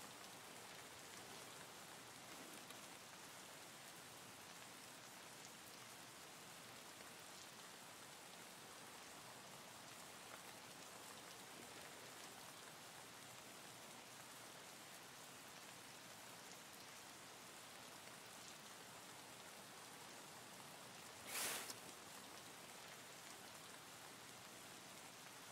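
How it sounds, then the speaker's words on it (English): Rain falls in the video game Escape from Tarkov as a soft, steady, even hiss throughout, with one brief sharp click near the end. "It's rain."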